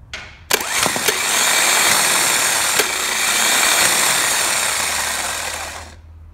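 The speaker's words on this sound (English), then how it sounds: "So now we're going to activate the motor and the solenoid." A new JCB starter motor and solenoid on a bench test: a sharp click as it engages, then a loud, steady high whine of the spinning motor for several seconds before it cuts off.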